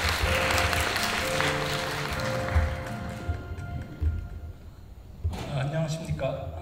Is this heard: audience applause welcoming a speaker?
yes